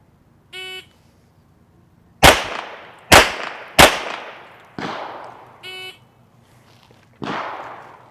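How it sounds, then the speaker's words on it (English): Pistol shots fired one-handed at 7 yards on a range, four loud sharp cracks with ringing decay, then two softer shots, spaced irregularly, with electronic shot-timer beeps at the start and in between. "This is going to be the one-hand only shooting, starting with my dominant hand and then switching to my non-dominant hand"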